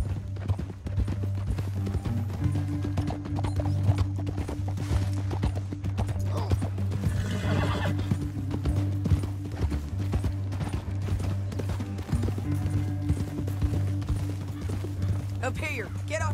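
Horse hooves clip-clop steadily on a canyon trail in a Western video game, with a brief whinny, under a sustained low musical drone and intermittent character dialogue.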